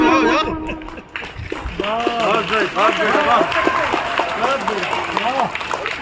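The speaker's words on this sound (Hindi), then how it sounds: "प्लीज तालियां बजा दीजिए ना, बड़ा अच्छा लगता है।" Applause from an audience at a Republic Day speech event rises under a busy mix of voices and music, a steady patter of clapping that continues throughout.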